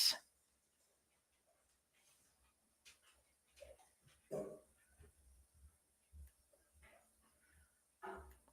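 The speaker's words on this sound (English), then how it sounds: "Hey, Jocelyn, come get this dog." An indoor dog gives scattered short barks, yips and soft whimpers, some louder and close, separated by quiet pauses over several seconds.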